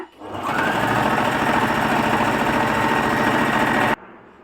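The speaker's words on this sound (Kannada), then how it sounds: "ನಾನು ಎರಡು ಸೈಡು ಹೀಗೆ ಇಟ್ಕೊಂಡ್ಬಿಟ್ಟು ಸ್ಟಿಚ್ಚನ್ನು ಹಾಕ್ಕೋತಾ ಇದ್ದೀನಿ" A sewing machine runs steadily for almost four seconds, stitching the fabric of an old kurti as it is being reused. The whirring is loud and close and stops abruptly near the end.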